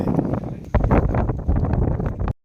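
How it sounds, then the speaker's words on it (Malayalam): Strong wind at the Ramakkalmedu hilltop viewpoint in Idukki roars and buffets the microphone in loud, uneven gusts, with a low rumbling rush that swells and surges over a couple of seconds. "എന്തായാലും നല്ല കാറ്റുണ്ട്, നല്ല രീതിയിൽ കാറ്റടിക്കുന്നുണ്ട്"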